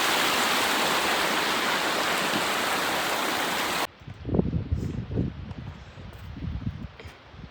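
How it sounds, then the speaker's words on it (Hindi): A large waterfall in the Kaghan valley roars as a loud, steady wash of rushing water for about four seconds, then cuts off abruptly to quieter outdoor rustling and thumps. "ये आगे बड़ी वाटरफॉल है"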